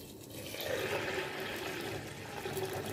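Water pours into a pot of plain tarka dal with turmeric, Kashmiri red chilli powder and a bay leaf, a close, continuous gushing splash lasting a few seconds.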